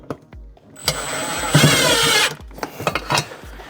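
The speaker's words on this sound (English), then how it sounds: "and I'm going to put these 2 screws in." A power driver runs two mounting screws into a Denago golf cart during a plug-and-play audio installation, heard as a sustained loud whirring burst in the middle with shorter clicks and bumps around it.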